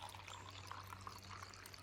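Water poured into a mix of sugar while cooking, a faint, steady trickling pour lasting a couple of seconds under a low background hum.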